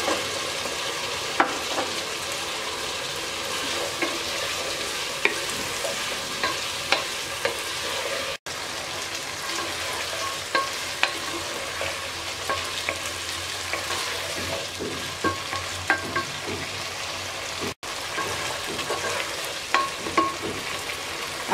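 Kabuli chickpeas being stirred and fried in a pot for biryani, a steady sizzle with repeated scraping and stirring strokes throughout, close and continuous with no talking.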